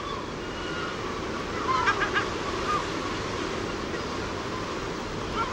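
Herring gull chicks give a few faint, high peeping calls over a steady wash of surf or wind along the coast.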